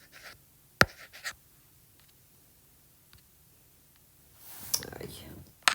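A pen scratches out numbers on a surface during a sixth-grade math lesson, short bursts of writing with a click near the start and a longer stretch of scribbling near the end.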